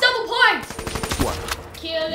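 Weevil gun fire in Black Ops 3 Zombies comes as quick bursts of rapid game gunfire, mixed in with players talking over the action.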